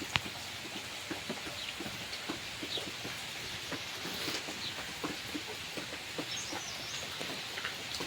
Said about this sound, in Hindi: बड़ी ज़्यादा बारिश पड़ रही है और इतनी तेज़ बारिश है ना